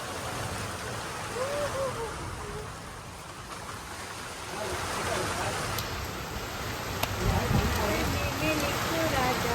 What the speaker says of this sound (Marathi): बघा पाऊस मित्रांनो हे बघा.